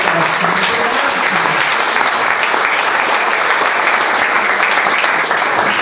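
A church congregation at a Sacred Heart of Jesus novena applauds loudly and continuously, dense clapping sustained throughout with faint voices mixed beneath.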